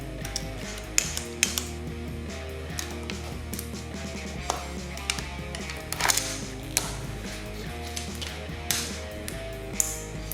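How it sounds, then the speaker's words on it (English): A 10mm ratchet works loose the carburetor nuts holding the throttle lines on a DRZ400SM motorcycle, giving sharp intermittent clicks and metallic taps close by amid steady background noise. "Take a 10mm and we'll loosen up these nuts here to take the throttle lines off."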